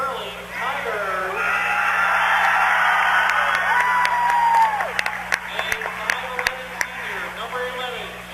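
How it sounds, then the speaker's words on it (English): A gym crowd cheers and whoops at a boys basketball game as the starting players are announced, a loud sustained roar with sharp claps and shouts near the end, and an announcer's voice heard over it. "You can hear the crowd going wild"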